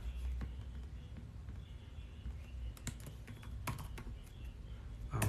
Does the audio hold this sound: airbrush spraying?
no